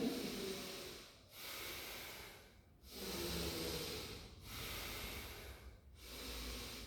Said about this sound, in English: Keep breathing deep here.